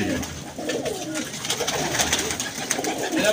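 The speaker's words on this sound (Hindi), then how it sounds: "ये ज़ेरी कबूतरी देखें।" Domestic pigeons in a large net loft, some with blue-painted fronts, coo steadily and close by against a busy outdoor background, with faint murmuring underneath.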